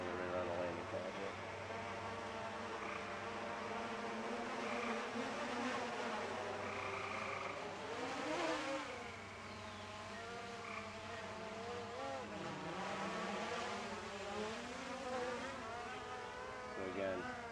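A DJI Mavic Air 2 drone descends toward a landing pad beside the operator, its steady close rotor whine holding throughout with shifting harmonic pitch as it slows and hovers lower.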